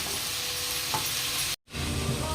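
Tomato and onion frying in a pan for egg burji, a steady close sizzle with stirring throughout, broken by a brief moment of silence.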